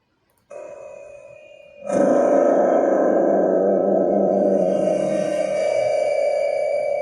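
A deep, sustained synthetic growl starts softly, then swells into a loud, rough roar that holds steadily for several seconds.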